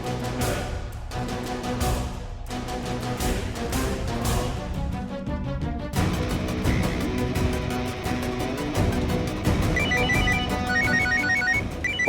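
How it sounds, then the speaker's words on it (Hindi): A phone ringtone plays loud and continuous as a melodic electronic tune with repeating chimes, followed by a brighter repeating beeping pattern near the end, with no talking. "बॉस का फोन।"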